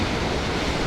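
Strong coastal wind by the sea near a gannet colony at Portland, Victoria, Australia, a loud continuous roar of broadband wind buffeting the microphone, with no voices.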